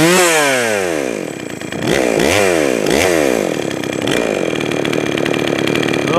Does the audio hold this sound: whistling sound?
no